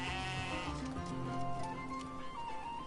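A goat bleats in a wavering, nasal cry over a busy soundtrack in the game Crimson Desert, with other bleating calls layered in the background.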